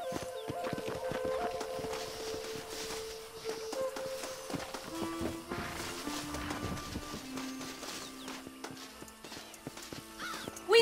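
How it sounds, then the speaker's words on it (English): Horses pulling a stagecoach in the Red Dead Redemption video game: clip-clopping hooves and occasional whinnies, quiet and continuous, with faint voices beneath. "My brother has given us his stagecoach."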